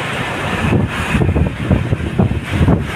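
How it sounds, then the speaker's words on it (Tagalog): Strong wind buffets the microphone in a steady, rumbling roar with gusty surges, loud and close, outdoors along a Manila esplanade. "Malakas ang hangin dito mga bayan"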